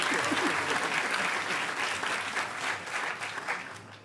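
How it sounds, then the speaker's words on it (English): Audience applause at the closing ceremony of the HOPE Number Nine hacker conference in 2012: a full, dense crowd clapping that holds steady and then begins to thin out over four seconds. "Everybody, round of applause for Nick Farr"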